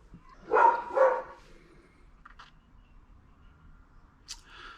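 A dog barks twice in quick succession near the start, followed by quiet with a few faint clicks and a brief higher squeak.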